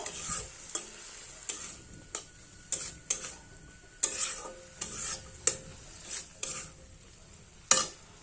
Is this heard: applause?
no